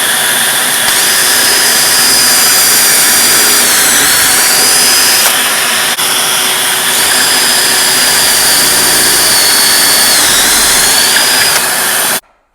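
Loud, steady whine of a power drill boring pocket holes alongside a small vacuum, continuous for about twelve seconds with slight pitch dips, then cutting off abruptly.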